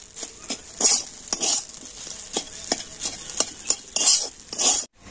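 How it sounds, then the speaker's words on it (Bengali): A spoon stirs semolina in a pan while making sweet laddu-style treats, with repeated scraping strokes against the metal at an uneven rhythm, close and moderately loud, briefly pausing near the end. "তবে এইভাবে কন্টিনিউ নাড়তে হবে, তবে কিন্তু সুজিটা এইভাবে ঝুড়ো ঝুড়ো হবে।"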